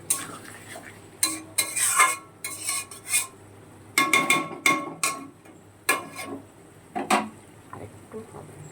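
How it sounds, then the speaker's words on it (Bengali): Vegetable curry with potato and taro stirred in a pan over a lowered gas flame, with a spatula scraping and clinking against the metal in irregular bursts over a faint steady sizzle. "গ্যাসটা একটু কম করে দিয়ে তরকারিটা কষাচ্ছি"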